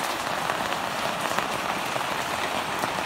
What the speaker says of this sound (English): All of a sudden it's raining cats and dogs.